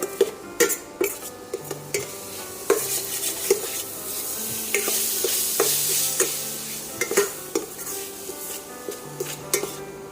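Kheema mixture is sautéed in a pan for cutlets, with a continuous sizzle under repeated metallic clinks and scrapes of a spoon against the pan, some sharp and close, arriving in irregular bursts.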